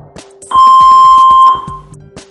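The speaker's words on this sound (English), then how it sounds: "A beep will confirm it's switched on." A Saver One AED defibrillator gives a single steady electronic power-on beep lasting about a second, loud and close, with faint clicks and handling noise around it.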